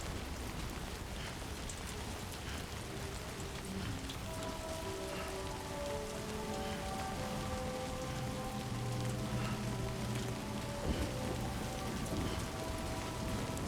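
Steady timefall rain in the video game Death Stranding 2, a continuous dense patter across the whole stretch with soft tonal music underneath and no talking.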